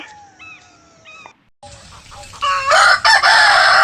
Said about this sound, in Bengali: সব মুরগিগুলি চিৎকার করতে থাকে